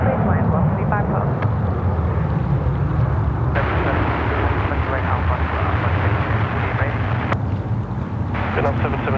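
An airliner landing on runway 34 right at Sydney Airport produces a steady, loud jet roar with wind buffeting, continuous throughout, while radio-style voices talk over it.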